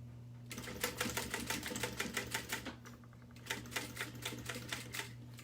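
Close and fairly quiet, a sewing machine stitches a second row along the bottom of a garment in two runs of rapid, even needle clatter, with a brief pause between them and a steady low hum beneath.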